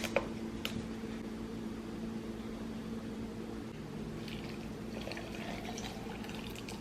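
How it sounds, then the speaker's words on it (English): An espresso shot poured over a glass of ice makes a soft, steady liquid trickle with small clinks. It sits faintly under a constant low kitchen hum, with a couple of sharper ticks near the start. "pour that over the ice"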